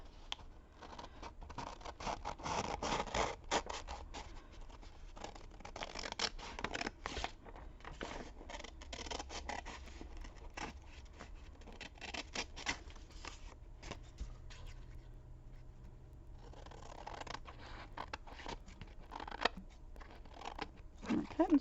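Scissors snipping through paper for a journaling craft, a long run of rapid close crisp cuts and rustles, repeated in bursts with a few pauses and paper shuffling between them.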